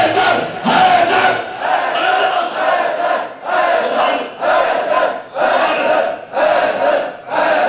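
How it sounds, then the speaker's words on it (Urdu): A large crowd chants 'Haidar' with raised arms at a religious gathering, loud shouted bursts repeating in a steady rhythm, each chant separated by short pauses. "دونوں بازو بلند کر کے حیدر حیدر"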